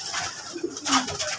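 Giribaj pigeons cooing close by, soft throaty coos repeating over a faint steady background, with no talk.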